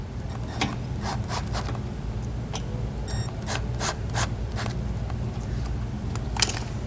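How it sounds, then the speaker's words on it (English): Self-tapping screws are driven into a plastic tail light mounting as part of a trailer LED wiring install, giving short, scattered rasping and grinding bursts over a low steady background hum. "we're going to take self-tapping screws and just kind of get those started in there"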